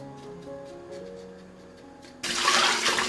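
Water runs from a tap to rinse blanched pork tripe, first a soft trickle and then a sudden loud gush that splashes steadily for the final second or so, with nobody talking.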